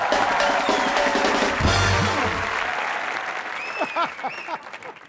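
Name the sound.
audience applause in TV comedy show studio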